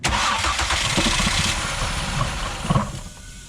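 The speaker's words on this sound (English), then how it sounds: "Now I'm going to crank it." A 2005 Mazda Tribute / Ford Escape with a rough-running misfire is cranked over, and its starter churns loud and close in a steady rhythm for about three seconds before tapering off.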